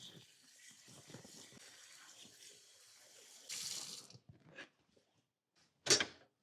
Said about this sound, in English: I'm adding enough cold water to cover the top of the potatoes.